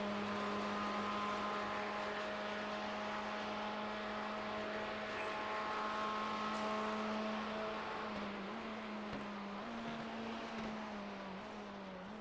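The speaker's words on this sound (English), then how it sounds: "So you hear that early shift to really get 4th gear to slow that car down. You hear that roar." A race car engine in a racing game drones with a loud, steady tonal roar, the pitch holding and then dropping slightly later on as the car shifts down toward fourth gear; no voices.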